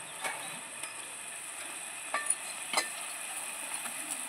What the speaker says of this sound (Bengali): ভালো করে এখন আমি নেড়ে চেড়ে নেব।